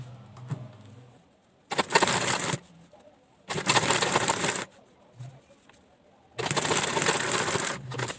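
Three bursts of a sewing machine stitching a throw pillow cover, each lasting about a second, separated by quiet pauses with faint handling noises.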